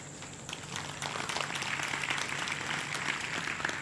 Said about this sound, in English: All Tamil people are clapping.